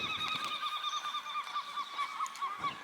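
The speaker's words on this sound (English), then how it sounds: "And those seagulls really echo." Seagulls call repeatedly at Fort George, an 18th-century fortress in the Scottish Highlands, their shrill cries ringing and echoing off the stone walls at moderate distance, with no talk.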